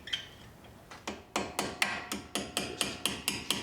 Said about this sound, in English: take your handy dandy hammer